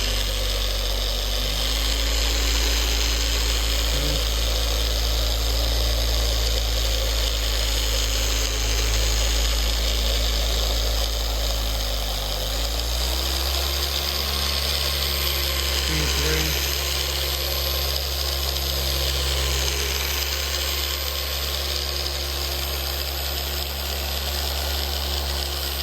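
A Rupes Bigfoot Mini LHR75e polisher runs at speed 1 with a loud, continuous high-pitched whine and a steady motor drone. The pitch shifts slightly partway through.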